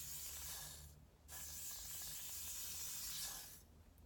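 Two long hissing sprays from a partly broken can of Got2b hair spray with a brief pause between them, close by, over a low steady hum.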